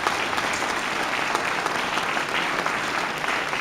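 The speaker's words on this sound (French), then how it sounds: "On peut les applaudir, franchement." A large audience of about 900 people at a Liège PTB New Year event applauds continuously, a dense, steady wash of clapping throughout with no pauses.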